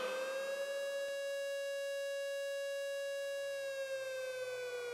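A civil defense air raid siren holds a steady loud wail, a single sustained tone rich in harmonics that starts to waver near the end, heard alone.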